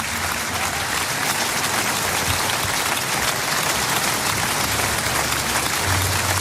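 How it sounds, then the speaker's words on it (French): Long, sustained applause from a large audience at the Cannes Film Festival award ceremony, dense and steady throughout with no break or voices. "C'est un long hommage, un long applaudissement."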